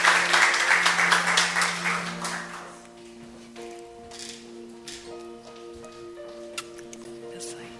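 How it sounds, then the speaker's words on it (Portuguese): Applause from a church congregation rises loud and dense for about three seconds, then fades away, leaving sustained musical tones and faint murmuring voices. "Uma salva de palmas para ele."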